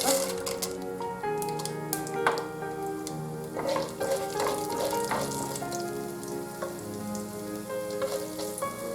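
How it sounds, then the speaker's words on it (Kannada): Mustard seeds and chana dal crackle and sizzle in hot oil for a green tomato dish, a steady dense frying hiss with sharp popping seed bursts throughout, close and fairly loud, no talking. "ಎಣ್ಣೆ ಕಾದ್ಮೇಲೆ ಸಾಸಿವೆ ಹಾಕೊಳ್ಳೋಣ ಕಾದಿದೆ ಎಣ್ಣೆ ಸ್ವಲ್ಪ ಸಾಸಿವೆ ಹಾಕೊಳ್ಳೋಣ ಸ್ವಲ್ಪ ಕಡಲೆಬೇಳೆ ಹಾಕೋಬೇಕು"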